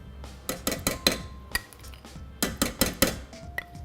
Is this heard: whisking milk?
yes